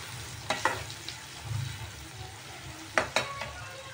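Masala stirred in a pan, with a spoon scraping and tapping against the metal several times over a soft frying sizzle, close and fairly quiet.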